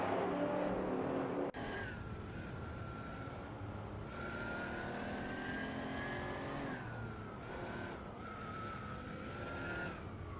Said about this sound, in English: Currently Eldevo 67 is driving a Lamborghini and is positioned at 5th place in the race simulator